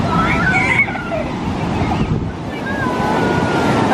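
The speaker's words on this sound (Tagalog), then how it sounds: "Ang lakas ng alon." Strong ocean waves break and wash up on a resort beach in a steady, loud roar, with wind buffeting the microphone and faint voices in the background.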